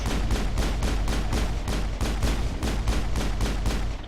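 Rapid automatic gunfire from the Mass Effect video game, a steady stream of loud evenly spaced shots about three per second, continuing without a break and with no talk over it.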